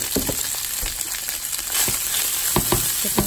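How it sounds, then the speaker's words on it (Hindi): Raw chicken goes into hot oil with sautéed fresh garlic, giving a steady, close sizzle with a few sharp crackles and stirring clatters. "तो अब इसमें हम चिकन डालेंगे।"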